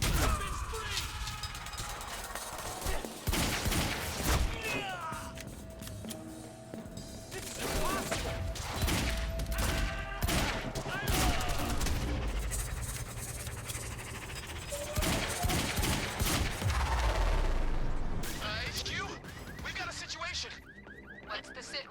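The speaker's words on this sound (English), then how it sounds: "He's got a gun! Open fire!" Gunfire rattles through a video game shootout, with repeated sharp bursts and crashes across the whole stretch, mixed with shouting voices and game sound effects.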